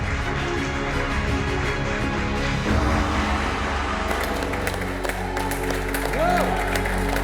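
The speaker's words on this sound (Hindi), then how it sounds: "जोरदार तालियां।" A studio audience breaks into loud applause and cheering, a dense sustained crowd roar with music and other show sounds mixed in and some voices over it.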